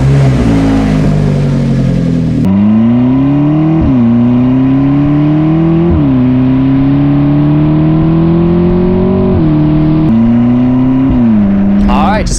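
McLaren sports car engine revving repeatedly while driven on the road, loud and close, with rising and falling pitch sweeps separated by brief shifts.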